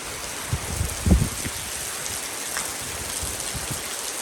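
Rain falls during a storm, a steady wash of drops close by, with a few low thumps and gusts near the start.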